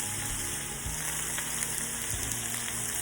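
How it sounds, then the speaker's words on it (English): Cucumbers and mixed vegetables are stir-fried in a pan. A constant close sizzle carries through, with a few soft stirring scrapes underneath. "Now proceed to adding the cucumbers into the veggie mix and stir until it is fully combined."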